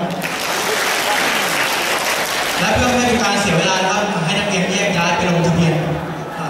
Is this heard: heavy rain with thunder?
no